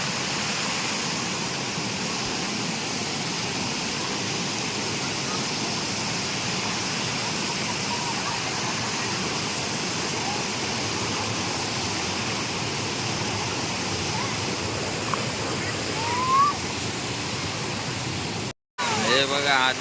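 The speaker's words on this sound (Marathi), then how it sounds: "वरून पूर्ण पाणी येतं." Water pours down hard from above at a monsoon waterfall, a loud steady roar that holds almost unbroken throughout, with a few brief voices faint beneath it.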